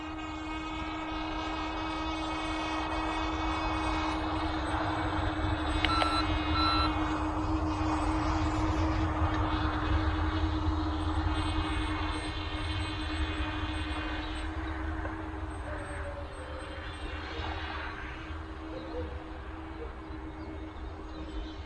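LYZRC L100 toy drone flying with a steady high-pitched motor whine that holds for the whole stretch, loud and close, varying slightly in intensity as it struggles to respond to the controls.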